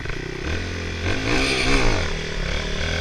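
A motorcycle engine rumbles near the mic, then the throttle is snapped open for a wheelie with a sharp clutch drop, so the revs climb and fall in one quick burst over a steady rough idle.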